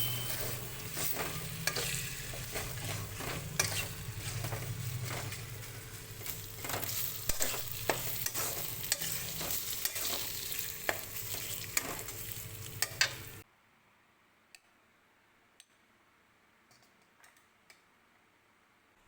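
A paneer and chana dal filling with salt fries in a pan and is stirred, making a steady close sizzle with frequent spatula clicks and taps. It runs for about thirteen seconds, then stops abruptly into near silence.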